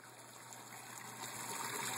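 Water pumped through pipes and draining into an aquaponics tank, a steady gushing trickle running continuously and slightly rising in level, with no voices.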